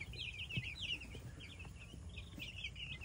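Broiler chickens in their pen at bedtime give a steady stream of overlapping chirps and soft clucks, fairly close, with no voices present.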